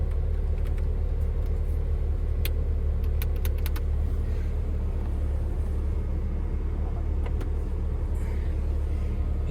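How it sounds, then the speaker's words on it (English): Heater blower fan running inside a Mini R50/R52/R53 hatchback: a steady, even whooshing hum with a low rumble underneath and a few light clicks scattered throughout, with no talking. "The blower is started working."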